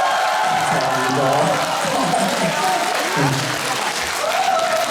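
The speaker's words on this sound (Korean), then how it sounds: "잘했다 생각하시면 박수 한번 주세요" Audience at an invited performance by a singer at Cheonan Seonghwan Cultural Hall applauds steadily for the full stretch, a dense, even wash of clapping with voices mixed in.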